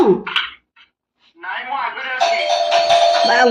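A household calling bell rings with a sustained electronic ding-dong tone that starts partway through and lasts to the end, mixed with people talking nearby.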